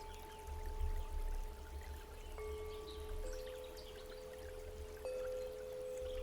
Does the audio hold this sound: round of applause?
no